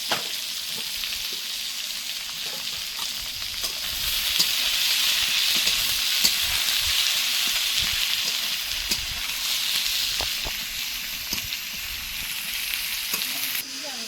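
Onions sizzle steadily in hot oil in a pan while mutton is being cooked for a birthday meal, a continuous close frying hiss with occasional stirring clicks throughout, no talking.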